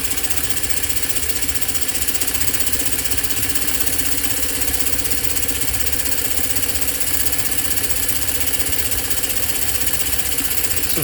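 A Lionel American Flyer 0-6-0 saddletank toy locomotive runs at full throttle, giving a steady, dense mechanical whir and hum that holds without a break for the whole stretch, close and fairly loud, with no talk.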